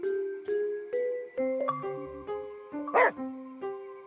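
A dog barking in the video game Murder Is Game Over, a series of short evenly spaced barks with tonal, slightly musical quality and a brief yip near the end, alone without talk.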